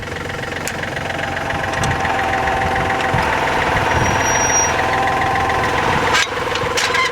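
A John Deere 3320 compact tractor pulling an antique disk harrow through a field, its engine a loud, close, steady diesel chug with a rhythmic knock that holds throughout.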